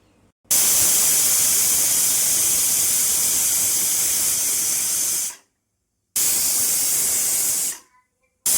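A pressure cooker boiling toor dal with ponnaganti greens on a stove releases long, loud, steady bursts of hissing steam, two sustained blasts with a short silent gap between them.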